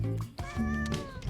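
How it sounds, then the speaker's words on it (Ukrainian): A video-game cat meows in a short, tonal, drawn-out call with rising harmonics, close and clear, with a brief lower vocal sound just before it. "Котик."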